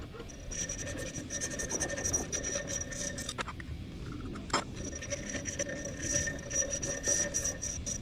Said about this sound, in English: Working on filing out our brass bolster.